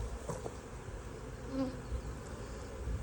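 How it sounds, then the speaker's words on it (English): Honeybees hum continuously around an open hive on a sunny afternoon, a dense, even buzz at close range with no voices. "All the bees you see here is only about half the hive."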